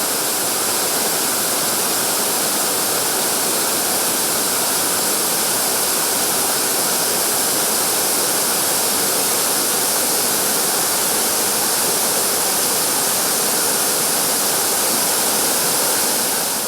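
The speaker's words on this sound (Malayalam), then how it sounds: "പാറക്കെട്ടുകളുടെ ഇടയിലൂടെ പാൽപ്പുഴ പോലെ പതഞ്ഞൊഴുകുന്ന ഈ മനോഹര വെള്ളച്ചാട്ടം" Monsoon waterfall at Arubikkuzhi in Kottayam, foaming over rocks, a loud, constant, dense roar of rushing water that stays unbroken throughout.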